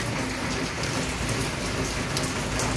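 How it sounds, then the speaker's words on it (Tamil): Heavy rain pours down steadily, a dense continuous hiss with close drops pattering on surfaces and no voices. "நம்ம வந்து மழை பெஞ்சிட்ருக்கு பார்த்தீங்களா."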